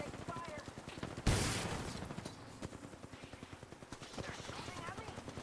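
Automatic gunfire in an Apex Legends match, rapid rhythmic bursts of shots with one loud sharp blast, continuing steadily at moderate distance throughout.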